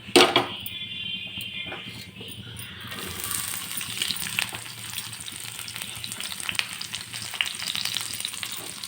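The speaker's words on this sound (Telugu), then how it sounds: "కొన్ని జీలకర్ర ఆవాలు చూడండి ఇవి చిటకటా చిటకట అన్నప్పుడు ముందుగా కట్ చేసి పెట్టుకున్న ఆనియన్ కూడా వేసేసుకోవాలి" Onion added to hot oil with cumin and mustard seeds fries in a pan, a sharp splash and clatter opening into a continuous close crackling sizzle with faint popping throughout.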